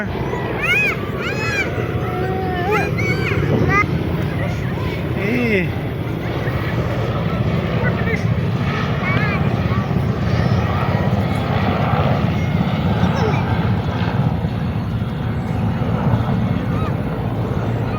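Loud, steady rotor noise of a helicopter landing at the Bangladesh Air Force Museum in Agargaon rumbles nearby throughout, while people chatter over the din.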